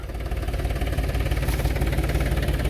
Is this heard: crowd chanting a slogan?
no